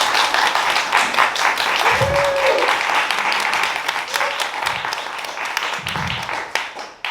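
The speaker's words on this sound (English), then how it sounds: "A big applause for Ted for doing what he does." An audience applauds at a Pride-day care event, sustained clapping filling the room from start to finish, with some voices murmuring underneath.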